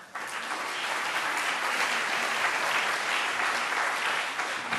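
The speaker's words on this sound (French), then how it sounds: "Applaudissements" A conference audience at Spectre & Innovation 2014 claps continuously, a dense, even roar of applause that holds steady from start to finish without any talking.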